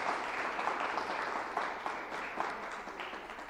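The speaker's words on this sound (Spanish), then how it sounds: "Vamos a darles un aplauso a todos nuestros amigos" A church congregation breaks into steady, dense applause, a continuous wash of clapping from a large crowd that holds at an even level throughout, with no voices standing out.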